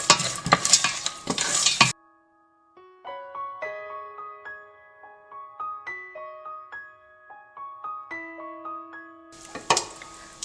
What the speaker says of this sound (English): I have taken roasted peanuts, so I will roast these for